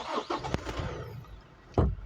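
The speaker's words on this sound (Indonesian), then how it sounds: "itu suara mesinnya memang masih sama ya kayak GR sebelumnya" Toyota Fortuner GR-S 2800 cc diesel engine revs briefly in short bursts, with a louder surge near the end of the brief stretch.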